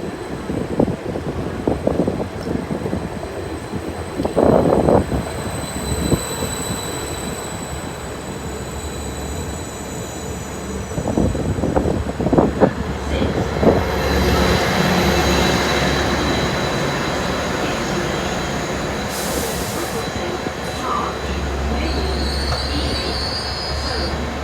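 Greater Anglia class 755 train, unit 755418, at Peterborough station on the 09:40 service from Ipswich; wheels squeal and clank in bursts early on, then a steady rising engine and traction hum builds as it moves, with a platform announcement tone near the end.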